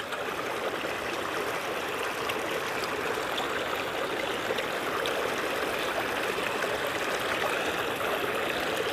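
A river stream flows along the bank, a constant close rushing and burbling of water that stays steady and loud throughout with no voices over it.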